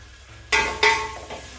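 Garlic paste and onions sizzle and fry loudly in a pan, with sharp bursts of hiss as ingredients are added and stirred, close and alone without any voice.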